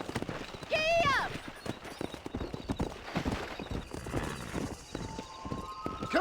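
Horse hoofbeats clip-clop in Red Dead Redemption as the rider sets off, with a loud whinny near the start and steady galloping hooves continuing under game sounds.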